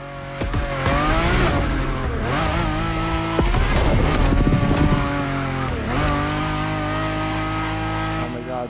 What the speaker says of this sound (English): The car slides so much.